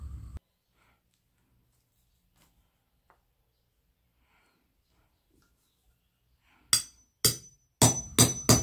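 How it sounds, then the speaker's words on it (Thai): An iron hole punch is hammered through a plastic bag strap, heard as a series of sharp metallic strikes that come in a quick cluster after a long quiet stretch. "สายกระเป๋าเราจะใช้เหล็กเจาะรูในการเจาะค่ะ"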